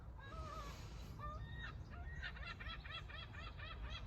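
Seabirds, presumably gulls, call at Mont Saint-Michel: a few short cries early, then a run of quick, repeated yelping calls, fairly close, over a steady low rumble of wind or traffic.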